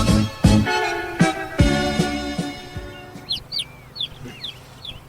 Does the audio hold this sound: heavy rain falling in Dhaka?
no